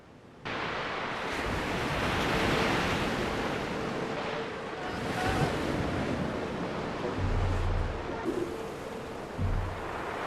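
Ocean waves surge and crash in a film scene, a continuous loud roar of surf with wind, with heavier breaking surges near the end.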